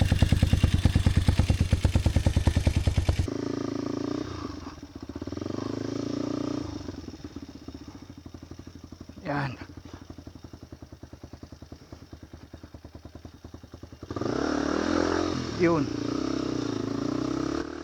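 A motorcycle engine warms up before a solo camping ride, idling loud and close for about three seconds, then settling into a softer, steady run beneath a person talking, with a brief sharp noise midway.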